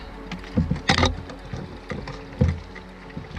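A boat paddled in toward a river takeout point on the Yadkin River, with several close splashing paddle strokes and water sloshing in an irregular rhythm over quiet outdoor background.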